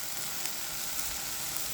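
Onions, peppers and fresh garlic sizzle in a pan with a steady, close hiss of frying that stays even throughout. No other sounds are heard.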